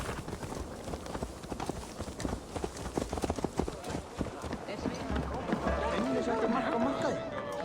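In Assassin's Creed Valhalla, a horse's hooves clip-clop in a steady rhythm that fades into ambient game noise, with voices speaking over the footfalls.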